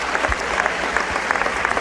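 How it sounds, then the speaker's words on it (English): A crowd applauds steadily after a senior all-star wrestling match, Delaware versus Region 7 and 8, in 2001; dense, even clapping fills the short stretch with no talk over it. "people are applauding the efforts of both wrestlers"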